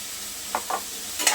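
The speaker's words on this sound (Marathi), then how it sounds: "हळद पावडर टाकल्यानंतर एका मिनटासाठी फक्त आपण हे परतून घेणार आहोत" Sprouted moth beans roast in a pan with onion and turmeric powder, giving a soft steady sizzle with a few brief scraping stirs, fairly quiet and close, with no voices.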